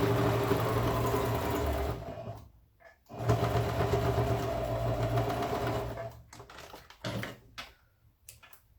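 Close and fairly quiet, a sewing machine topstitches a seam on a fabric shoulder bag in several bursts of rapid, steady whirring, broken by short pauses and a few brief stops toward the end.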